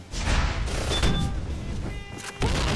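Gunfire in the shooting game Point Blank, loud bursts of shots with a rattling, echoing tail and a sharper blast near the end.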